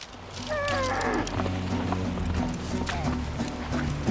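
Horses walk along a mountain trail in Mongolia with a camel alongside, their hooves clip-clopping at close range in a steady rhythm while someone talks over them and an animal calls briefly near the start.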